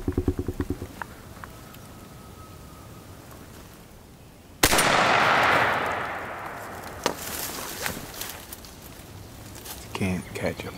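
A single loud, sharp gunshot aimed at wild turkeys during a hunt cracks out after a quiet stretch, followed by a long fading echo and scattered rustling.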